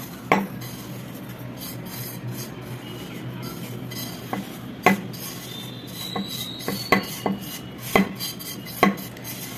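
Roasted semolina and wheat flour go into a mixer jar for a spongy cake, with dry scraping and rubbing broken by about a dozen sharp, irregular knocks of a utensil against the jar.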